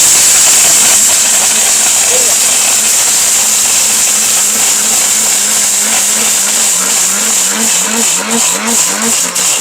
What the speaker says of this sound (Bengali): দেওয়ার সাথে সাথে ইটের গুড়া কিন্তু হয়ে গেছে একেবারে